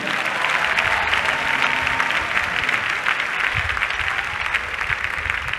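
A large congregation at Bishop Tudor Bismarck's sermon claps hands in loud, steady applause that carries evenly throughout, with crowd noise underneath.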